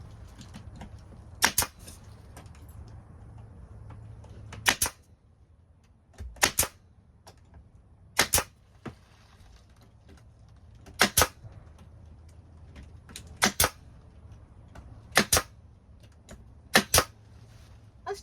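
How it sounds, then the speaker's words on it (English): Brad nail gun firing nails into cedar planks on a van's sliding door, about a dozen sharp, close pneumatic snaps, often in quick pairs, spaced irregularly over a low steady hum. "So then I have brad nail gun."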